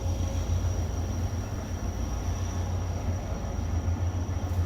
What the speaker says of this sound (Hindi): ट्रेन फाइनली तकरीबन 2 मिनट रुकने के बाद निकल रही है टंडो वाला यार रेलवे स्टेशन से